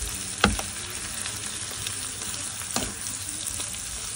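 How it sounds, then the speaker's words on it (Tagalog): Garlic browning in a pan for garlic butter shrimp, a steady close sizzle with a couple of sharp scraping stirs. "Ayan, medyo pag-browning lang natin yung bawang."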